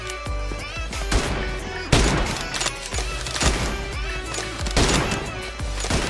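Repeated sharp sniper rifle shots crack out in an online team deathmatch shooter, each loud report spaced a second or so apart over a busy game soundscape.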